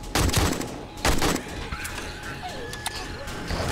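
An AK rifle fitted with a drum magazine fires in 7 Days to Die during a horde night, loud close bursts of rapid shots followed by scattered thuds and impacts.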